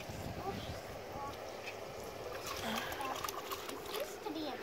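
Water splashes and trickles steadily at an outdoor splash pad, a continuous wash of spray with children's voices and adult talk over it.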